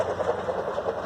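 Project vehicle's engine running at a steady idle, a low, even rumble with a mild pulsing throb, close and moderately loud for a brief moment with no talk.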